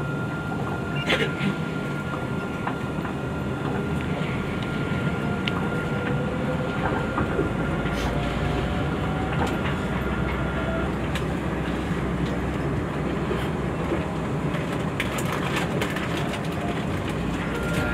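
An airport rail train pulling out of Soekarno-Hatta Terminal 2 station, heard from inside as a steady low rumble and rolling hum that continues throughout, with faint scattered clicks over it.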